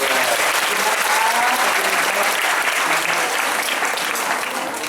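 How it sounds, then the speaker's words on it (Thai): Sustained applause from a fan club audience at a birthday charity gathering, a dense, even wash of many hands clapping that stays strong before easing off slightly, with no voices on top. "ปรบมือให้ฤทธิ์คนนี้ด้วย"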